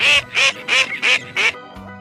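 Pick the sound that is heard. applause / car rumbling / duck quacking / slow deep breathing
duck quacking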